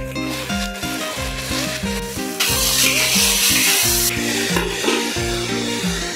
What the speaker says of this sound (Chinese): 切点羊肉炒一炒。